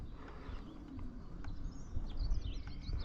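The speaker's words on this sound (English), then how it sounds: "the gulls in the background" Faint gull calls cry out in the distance over fields, thin high squeals over a low, rumbling wind-like background.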